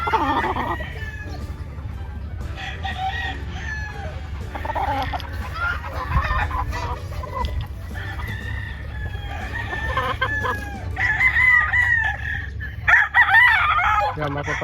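Gamefowl roosters crow repeatedly at a gamefowl farm in Brgy. San Roque, Sto Tomas, Batangas. Several loud, drawn-out crows overlap near and far amid clucking, with someone talking over them.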